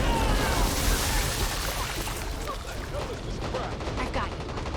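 Dense gunfire in the Back 4 Blood co-op zombie shooter, a continuous roar of shots and explosions with no clear breaks, loud and close, with game effects mixed in.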